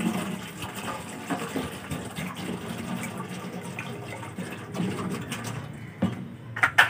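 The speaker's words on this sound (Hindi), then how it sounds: "तो हमने फिलहाल इसके अंदर पानी डाल दिया है" A bottle of water being poured into an empty tin can, heard as a steady gushing, splashing fill at moderate volume with a few louder clatters near the end.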